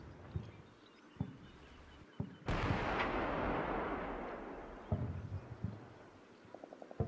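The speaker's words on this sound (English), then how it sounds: "Just the ammo cooking off." Ammunition cooking off inside a destroyed vehicle in the Combat Mission Black Sea war game: scattered dull thumps, then one loud booming blast that rolls and rumbles away over several seconds, followed by a few more sharp pops.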